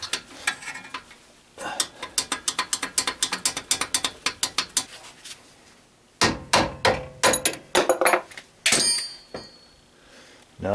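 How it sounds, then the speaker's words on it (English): A ratchet wrench tightening a lower ball joint on a 2003 GMC Sierra or Chevrolet Silverado 2500 truck, heard as rapid bursts of close, sharp metallic clicks in quick rhythmic strokes, pausing between runs, with no talking. "Now we'll torque it down to 48 foot-pounds."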